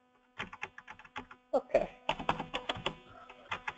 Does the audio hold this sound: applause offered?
no